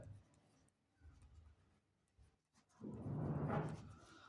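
A maths solution being written on a classroom board, with scratchy chalk strokes in short bursts and a louder rubbing passage toward the end, faint and close.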